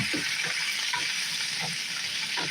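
Food fries steadily in a pan with a small splash of water added in place of extra butter, giving a continuous loud sizzle broken by occasional stirring scrapes.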